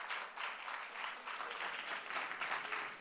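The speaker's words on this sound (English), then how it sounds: "Please welcome them on stage with a huge round of applause." An audience at a literary festival session applauds to welcome two speakers onto the stage: steady, moderately loud clapping from a crowd that holds level for a few seconds with no talk.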